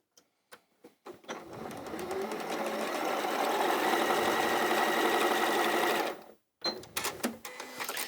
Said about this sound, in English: I'm going to sew down a 1/4 inch down this line